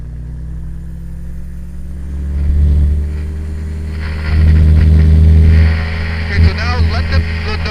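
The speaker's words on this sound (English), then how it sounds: "And then full throttle once you're stabilized, and off we go." Small airplane engine on a training circuit, its steady drone rising to a louder, fuller roar as the throttle is pushed to full for takeoff, heard close from the cockpit with an instructor talking over it.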